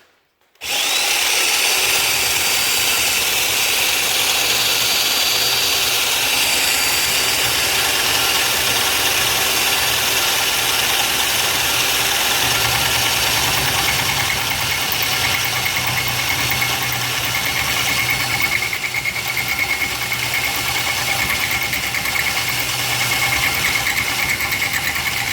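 A Komatsu PC200 excavator runs steadily while grading with a beam, its engine a loud, constant close drone with a harsh mechanical whine held throughout and no pauses.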